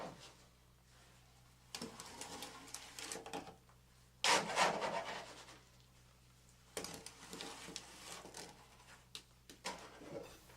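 Fresh concrete is rodded in a slump test cone, heard as several bursts of scraping and rubbing with quiet gaps between them, faint and close.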